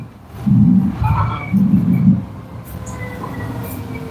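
A light rail train rumbles in pulsing low surges with faint squeals and chimes, fairly close and loud, then fades to a steady background drone.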